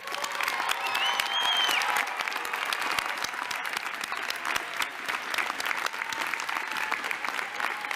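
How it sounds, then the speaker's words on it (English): Sustained applause from a convocation audience honoring a graduating law school class, a dense steady wash of clapping throughout with a brief whistle-like tone early on. "I think that we owe the class of 2018 another round of applause."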